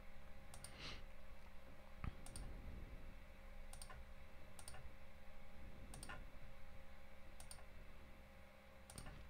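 Computer mouse clicks while building a boat in a game, a handful of sharp, evenly spaced ticks about a second apart over a steady low hum.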